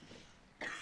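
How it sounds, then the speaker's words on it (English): A single short, harsh cough from a character in The Walking Dead, preceded by a faint breathy throat sound. It is heard close and fairly quiet, with no talking over it. "Uh-oh, coughing."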